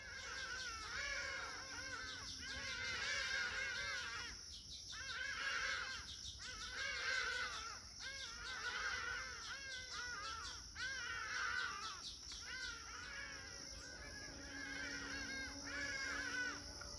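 A hadada ibis calling in the morning, loud harsh caws repeated in a steady series of bursts, fairly close and clear over faint background.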